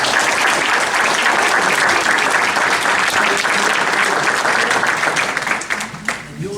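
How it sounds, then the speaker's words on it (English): Loud, sustained applause from the audience at a Runnemede borough council meeting honoring local youth, with dense clapping that carries on steadily before thinning out near the end amid faint crowd voices. "Please give them a round of applause."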